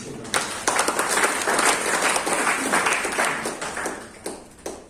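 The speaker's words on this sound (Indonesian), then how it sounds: "Tepuk tangan untuk Yesus." A church congregation at a Sunday service at a theology college in Tawangmangu claps in unison, a dense, lively round of applause lasting several seconds before tapering off.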